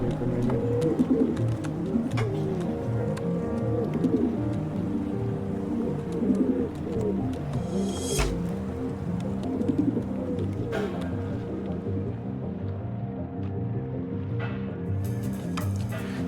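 Pigeons coo in a video game, a steady layered cooing running throughout under a continuous low ambient bed, with a brief sharp noise near the middle.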